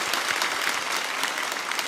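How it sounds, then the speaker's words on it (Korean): Congregation applauding in a church during an autumn special dawn revival service, a dense, steady wash of clapping lasting throughout, fairly loud and close, with no speech over it. "주님께 영광의 박수 올려드리겠습니다."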